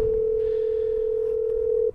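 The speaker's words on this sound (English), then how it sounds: "And now the other phone's ringing" A VOIP phone on an amateur radio AREDN network gives one steady electronic tone that holds for about two seconds, then cuts off abruptly. No one speaks.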